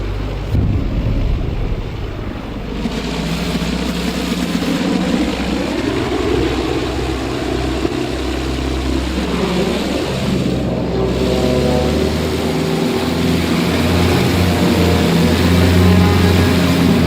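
A propeller engine on the Bristol plane in Fortnite, a steady loud drone with wind rush that shifts in pitch as the throttle changes, continuous throughout with no talk.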